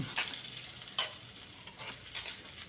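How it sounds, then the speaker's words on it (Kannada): Raw prawns stirred in a pan with fried onion and curry leaves for prawn sukka, a steady close sizzle broken by several scraping spoon strokes, with no talk. "ಈಗ ಚೆನ್ನಾಗಿ ಮಿಕ್ಸ್ ಮಾಡಬೇಕು"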